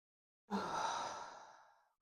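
One big exhaling breath, close and fairly loud, starting abruptly and trailing off slowly over about a second and a half, heard alone during an exercise session.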